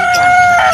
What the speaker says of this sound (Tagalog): Yung mga manok na to, mga native, ang liliit, ano?